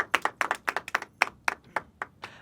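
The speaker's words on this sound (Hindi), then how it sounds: "एक बार आपकी भरपूर तालियां हो जाएं।" Sparse clapping from a small audience at a Hindi hasya kavi sammelan poetry event, about a dozen distinct hand claps in an uneven rhythm, fairly close and not very loud.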